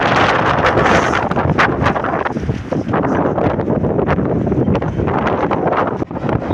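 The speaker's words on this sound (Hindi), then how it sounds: "तेज हवाएं हो रही है बद्रीनाथ जी की।" Strong, continuous mountain wind at Badrinath roaring and buffeting close to the microphone, loud and steady throughout with no speech.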